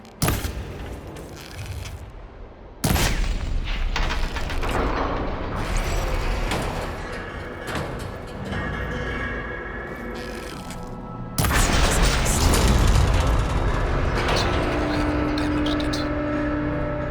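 In Horizon Forbidden West, a machine arm is shot loose and crashes down, heard as a sudden loud impact followed by heavy rumbling, then another loud crash and lingering clatter.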